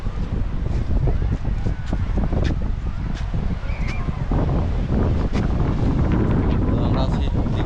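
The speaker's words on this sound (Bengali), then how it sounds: "আমরা আছি দীঘা সমুদ্র সৈকতে," Strong wind buffets the microphone at Digha sea beach in West Bengal, a constant loud roar with low rumbling gusts and faint surf beneath throughout.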